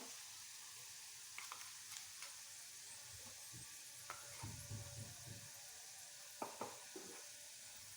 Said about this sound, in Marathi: याला पण चांगलं फ्राय करून घेऊ